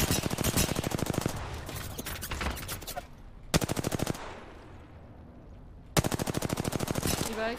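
Rapid automatic gunfire in an Apex Legends match rattles out in three loud, close bursts of evenly spaced shots, separated by short gaps with quieter distant shooting in between.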